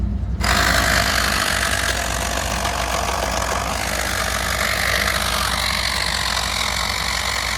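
A cheap Walmart portable air compressor that is smoking runs roughly, a loud, steady motor drone with a rattling, pulsing low end that starts abruptly and continues alone.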